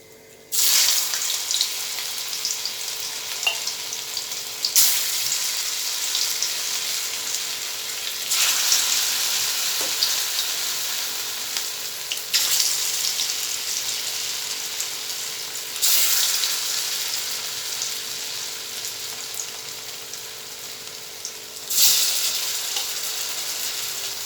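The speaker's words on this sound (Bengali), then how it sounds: "ডিম ভাজা হয়ে গেছে এই যে দেখুন নামিয়ে নিচ্ছি" Steady, close crackling sizzle of eggs frying in hot oil, with broad hiss that swells in several surges and no talking.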